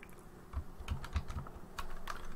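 Quick bursts of keystrokes on a computer keyboard, irregular clicks and taps close by, with a few louder thumps mixed in.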